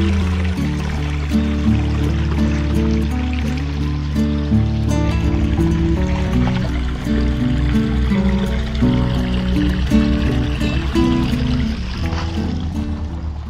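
A river in the Konkan during the rainy season, water flowing and trickling steadily around someone wading in it, close and continuous with a gurgling, bubbling texture and no speech.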